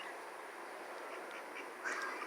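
Indian Runner ducks quack on a farm near pastures, a flock chattering in a continuous nasal stream with a louder burst of quacks near the end.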